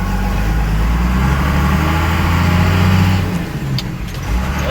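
A 1991 12-valve Cummins dually truck with a 6-speed G56 drives over bumps, its diesel engine droning loud and steady from inside the cab, with faint rattles and thumps near the end.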